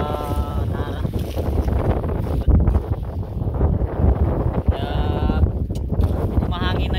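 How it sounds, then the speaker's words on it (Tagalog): Gusty wind buffets the microphone with low rumbling roars on a windy day by the sea, while a voice talks intermittently underneath. "Medyo mahangin na yung panahon, medyo windy."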